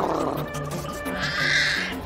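A cartoon tiger gives a short, growling roar-like vocalization, close and moderately loud, lasting about two seconds over a busy animated soundtrack.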